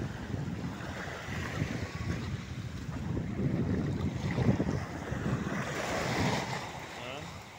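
Gentle sea waves wash and surge steadily at open sea under calm weather, a continuous soft broadband rush with wind buffeting the microphone, no voices.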